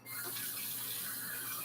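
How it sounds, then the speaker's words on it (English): A kitchen tap runs in a steady, moderately quiet stream while hands are washed before cleaning fish, with no talking. "Let me wash my hands."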